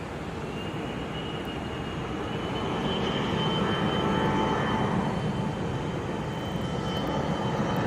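A CRJ jet airliner at Sky Harbor International Airport gives off a broad, steady roar that swells slightly toward the middle and then holds, heard from a distance with no voices.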